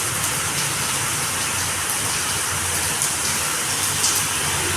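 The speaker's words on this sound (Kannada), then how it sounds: "ನೋಡಿರಿ ಈಗ ಮಳೆ ಬರಾಕತ್ತೈತೆ ರೀ" Heavy evening rain pours down in a steady, dense hiss that stays loud and even throughout, with no voices over it.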